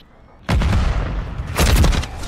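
Grenade blasts in a Call of Duty match, a loud broadband burst hitting suddenly at about half a second and a second heavy blast near the end, with faint talk underneath.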